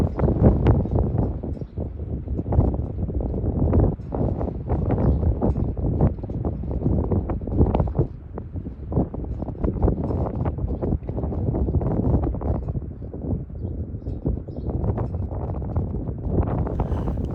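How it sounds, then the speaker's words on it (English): Strong wind blows constantly across an open homestead with mountain views, buffeting the microphone in a continuous rough roar with gusty surges and no talking. "The wind is always blowing so hard out here."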